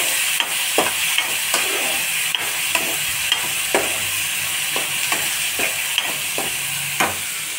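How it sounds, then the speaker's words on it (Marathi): Tomatoes sauté in a pan for a black ghevda bean curry, giving a steady frying hiss throughout, with a spatula scraping and tapping the pan about once a second, close and fairly loud. "टोमॅटो तुम्ही सोबतच याच्यात टाकू शकता। याला पण छान परतून घेऊया।"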